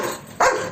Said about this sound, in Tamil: வெளியே என்னமோ சத்தம் கேக்குது, நாய் குலைக்க மாதிரி எல்லாம் கேக்கேன்.